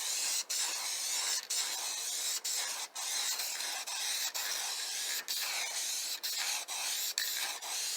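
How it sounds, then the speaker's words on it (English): Steady hissing spray from an aerosol can of polyurethane, broken by brief pauses as the nozzle is released and pressed again. "I'm gonna come and spray some polyurethane over"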